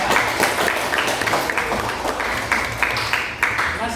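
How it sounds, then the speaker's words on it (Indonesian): A classroom of students claps for a classmate, the dense applause continuous and close throughout, with a few voices faintly mixed in. "kita tepuk tangan dulu untuk dia"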